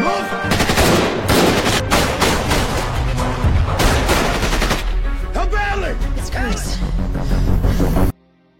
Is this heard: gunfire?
yes